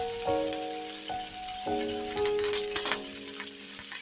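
Curry leaves and green chillies hit hot oil for Kerala sadya injipuli, giving a steady close sizzle with sharp crackling pops as they fry, and no voices.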